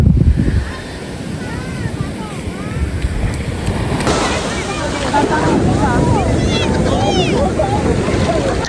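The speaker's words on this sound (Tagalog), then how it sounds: "sobrang lakas ng alon" Heavy surf pounds a beach at Dingalan, a broad steady roar with wind buffeting the microphone, while voices and children's calls sound faintly over the constant wash of waves.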